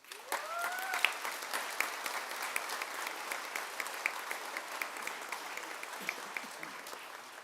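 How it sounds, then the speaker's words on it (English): Audience at a Munich commencement ceremony applauding faculty members, a steady roomful of clapping sustained throughout at an even level, with a brief voice or whistle-like sweep near the start. "please give them a big round of applause"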